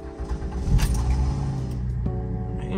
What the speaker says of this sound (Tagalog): every time na isa-start ko siya guys, pakinggan nyo may weird sound. Feel ko sa starter to eh